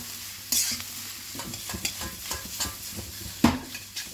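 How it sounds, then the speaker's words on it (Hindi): Vegetables for veg chowmein stirred in a hot pan with onion, sizzling and frying steadily, with spoon scrapes and a few sharper clatters standing out near and alone. "तो सारे वेजिटेबल को अच्छे से मिक्स कर देंगे"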